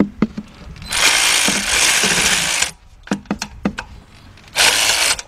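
Ratchet with a 3/8-drive deep 10mm socket backing out a 10mm bolt on the 2.7 engine of a 2006 Kia Sportage EX, two long bursts of rapid clicking split by short taps and handling knocks, close and loud.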